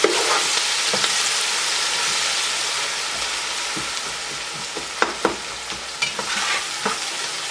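Onions stirring and frying in hot oil with dry spices for Hyderabadi tahari, a steady close sizzle with scraping stirs and sharper clatters of the spoon near the end, no talking.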